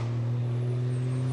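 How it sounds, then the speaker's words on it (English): Racing trucks, an Iveco and a Scania, lapping the Zolder circuit during a 2021 qualifying session: a loud, steady diesel engine drone with a high whine, sustained close throughout with no pauses. "Stefan Fast will have to be careful here not to get too close to the tail end of the Iveco in front"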